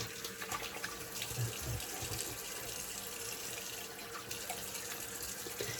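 Water runs steadily from a bathroom tap into a sink as a face is wetted for shaving, a soft continuous splashing hiss with a few louder splashes near the start.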